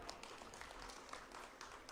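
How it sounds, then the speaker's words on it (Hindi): An audience at a BJP farmers' tractor rally in Gohana claps for Ramesh Kaushik, giving faint, distant applause as a steady crackle of many hands over two seconds. "आदरणीय रमेश कौशिक जी के लिए एक बार ठोक दो ताली"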